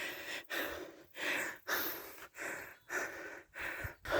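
Heavy, rapid panting close to the microphone while hiking Mount Panit, with about seven loud breaths in a steady, labored rhythm and no talking.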